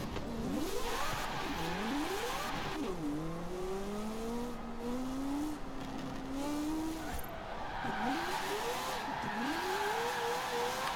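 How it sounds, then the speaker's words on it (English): Mazda RX-7 Spirit R brake drifting in Forza Horizon 4, set up with full front brake bias: a continuous rotary engine rising and falling in pitch with repeated revving, tire squeal and skidding throughout, loud and close. "We're about to test out if brake drifting will work or not."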